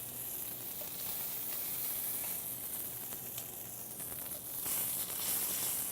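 Food sizzles steadily in a very hot pan with olive oil while a beef Wellington is being prepared, a dense continuous hiss that swells slightly toward the end, with no talking.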